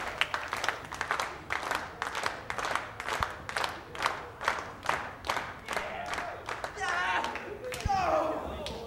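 A wrestling crowd claps along in a steady, rhythmic beat during an Ace Perry vs Aero Boy match, with loud regular bursts, a few thuds, and shouts rising near the end.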